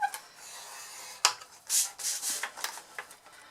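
A scoring tool drawn along card on a scoring board at the one-inch mark, giving soft scraping rubs and a few sharp little scratches, close and quiet.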